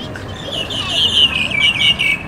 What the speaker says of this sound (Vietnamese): Ồ, chim hay là sáo đấy.